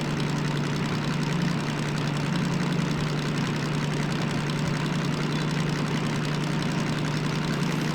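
A DM3 diesel locomotive in Derail Valley idles steadily with a deep, even engine hum and a faint knocking vibration, constant and close throughout with no voices.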